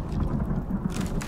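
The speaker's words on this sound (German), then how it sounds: "Zum Glück ist der Sturm gleich vorbei." Stormy wind with low rumbling thunder in the survival video game Icarus, a steady loud roar of gusts and rumble running throughout with no pause.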